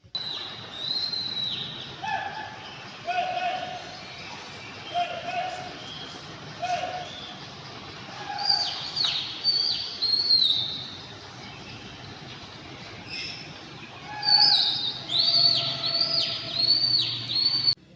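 Birds and pigeons chirp and whistle in short bursts outdoors in the morning, with soft cooing calls and a quiet ambient background; no speech.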